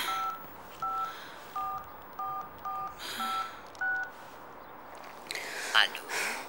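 Touch-tone dialing on a home landline telephone: seven evenly paced beeps, clear and close, followed by a brief rustle and handling noise.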